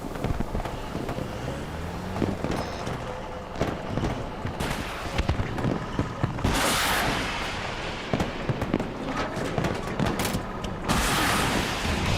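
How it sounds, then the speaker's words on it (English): Gunfire in a shooting video game, with scattered sharp reports and crackling bursts over constant rumbling, wind-like background noise. "I'm only shooting one at a time right now."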